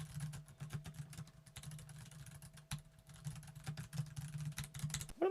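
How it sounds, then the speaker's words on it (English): Quiet, continuous clicking of keys on a computer keyboard, a rapid irregular patter over a faint low hum, picked up by a 7RYMS mini condenser microphone. "I'm going to start typing while I'm talking to see if it picks up that sound"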